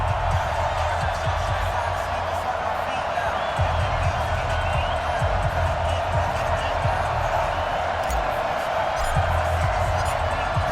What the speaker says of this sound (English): in front of a raucous crowd, this one is underway